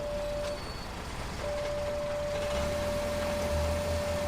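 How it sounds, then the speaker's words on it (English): Parking sensors in a 2020 Hyundai Sonata sound while it reverses close to a door: a faint, steady warning tone that cuts out briefly, then holds continuously over a soft engine and road hum. "you can hear the sensors inside the car freaking out because it's this close to the door"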